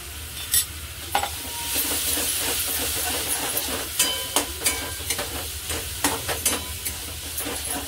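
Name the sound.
yogurt added to frying masala and stirred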